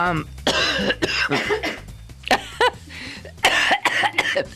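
Repeated coughing in bursts, some hacking and some chesty, very close and loud. A voice speaks between and over the coughs.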